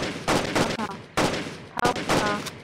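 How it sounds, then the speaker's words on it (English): A shotgun fires in the Roblox Jailbreak game, loud game-audio blasts in quick bursts with brief gaps between them, sharp and close. "you're gonna get shot by my shotgun"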